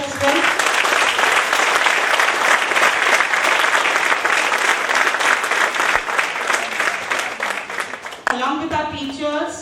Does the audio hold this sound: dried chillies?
no